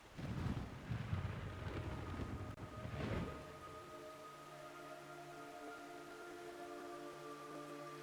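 Heavy rain in a video game, Metal Gear Solid 3 Snake Eater HD, rumbling with a low thunder-like roll in the first few seconds, then fading into a quiet steady drizzle with a faint hum.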